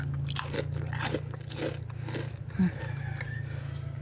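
Crunchy pillow-shaped keropok crackers are bitten and chewed close up, several crisp crackling bites in a row with a faint voice underneath and one sharper crunch near the end.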